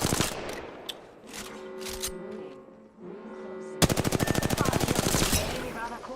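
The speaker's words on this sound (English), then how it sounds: "They're shooting at me." Gunfire in the Apex Legends battle royale game: muffled, uneven game noise gives way to a sharp, loud, rapid automatic burst of evenly spaced shots that fades into scattered trailing sounds.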